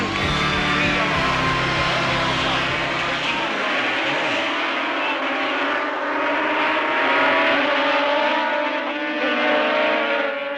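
Yamaha and Suzuki racing motorcycles at Mallory Park during a 1976 race, a dense, continuous high-pitched engine roar from several bikes together, loud and sustained, with engines rising and shifting in pitch as they pull away.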